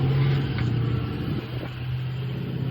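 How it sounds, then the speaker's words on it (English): A truck driving by outside gives a low, steady rumble and hum, loudest at the start and easing off a little as it passes, heard from indoors with no speech. "Every freaking truck that goes by"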